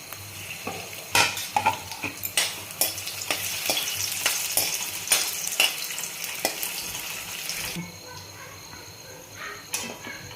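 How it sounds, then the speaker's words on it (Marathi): Dates sautéed in ghee for Ramadan sheer khurma, a loud close sizzle broken by frequent spoon scrapes and taps against the pan, with the frying easing off near the end. "खजूर पण थोडंसं तुपामध्ये परतून घेते"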